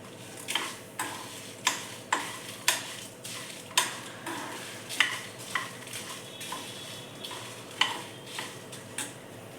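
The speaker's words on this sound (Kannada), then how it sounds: "ಅದು ಸ್ವಲ್ಪ ಎಣ್ಣೆಲೆ ಒಂದೇ 1 ಚಮಚ ಎಣ್ಣೆ ಹಾಕ್ಕೊಂಡು ಹುರ್ಕೋಬೇಕು" Six to eight Byadgi chillies roast in a spoonful of oil with a soft sizzle, punctuated by regular sharp taps and scrapes of a spoon against the pan, about one per second.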